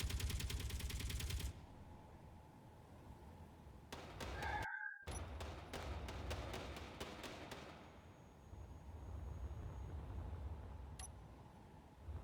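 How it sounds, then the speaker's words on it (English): Distant gunfire in Space Engineers: a rapid rattling burst at the start, then a string of evenly spaced sharp shots midway, set against low rumbling ambience. "We're being shot at. I'm hearing guns going."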